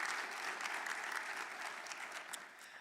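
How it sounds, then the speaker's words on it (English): An audience at a Martin Luther King Jr. Day event gives award winners a round of applause: sustained, fairly distant clapping from a crowd that holds steady throughout. "let's give another round of applause for our award winners"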